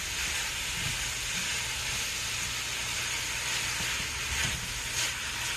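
Young jackfruit stir-frying in a pan, a steady broadband sizzle and hiss running throughout with faint low scraping as the pieces are gently moved.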